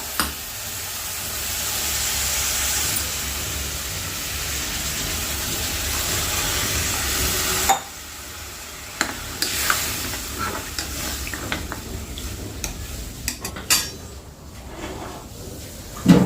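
Water goes into a pan of frying coconut and poppy seed amti masala, and a loud sizzle and hiss rises, then eases off into scraping stirring and clinks of the spoon against the pot.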